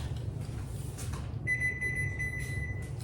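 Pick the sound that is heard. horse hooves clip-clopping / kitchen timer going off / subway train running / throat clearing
kitchen timer going off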